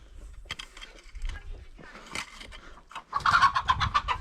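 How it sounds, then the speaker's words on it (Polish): Chickens cluck and squawk near the end on a village farm, a lively burst after scattered knocks and faint movement. "Kury ganiają."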